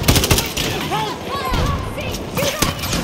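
Heavy gunfire in the Battlefield video game, with dense rapid bursts and sharp impacts cracking loudly throughout, under a frantic voice and other speech.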